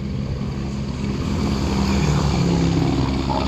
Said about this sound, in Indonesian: Waduh, ada helikopter.